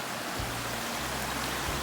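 Steady, close broadband rush of a creek in the Mt Hood Wilderness, water flowing beside a mossy campsite, continuous and even with no voices.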